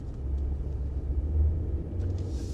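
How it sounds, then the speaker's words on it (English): A truck engine rumbles low and steady from inside the cab while driving, with no talking. "I figured we will go for a quick drive so that you can kind of hear this engine."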